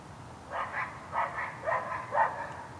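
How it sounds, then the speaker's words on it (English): Dogs bark in the neighborhood at a distance, several rounds of double barks in a steady rhythm, faint and carried over open air with no talking. "There's other dogs barking."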